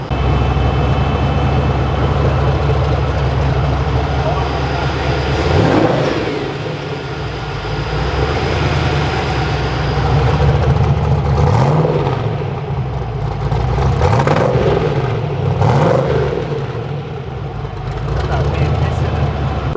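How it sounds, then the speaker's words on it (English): A cammed engine without an idle air control valve in an offroad buggy idles loudly, rises in several revs and settles back to idle, with a person talking over it. "Now it's recovering really nice after revs, catching idle really well for such a cammed motor with no IAC"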